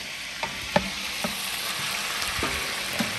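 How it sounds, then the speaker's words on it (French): Turkey civet fries in a pan with a dense, steady sizzle, broken by a few sharp pops and clicks of stirring close by. "C'est une friture, alors, hein?"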